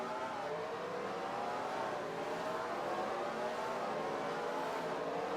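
Race cars circling the Texas track in the NR2003 racing game, a steady droning roar of multiple engines with rising and falling pitch, constant and moderately faint, without speech.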